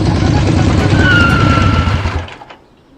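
A motorbike engine runs loud and steady with a low rumble and a rising whine, then cuts off and fades near the end.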